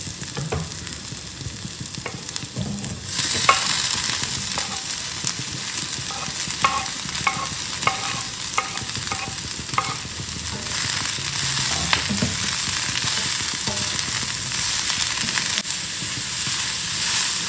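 Shredded cabbage sizzles and fries in a hot pan on a lowered flame, with repeated scraping stirs clattering through a steady hiss for the whole stretch, no voices.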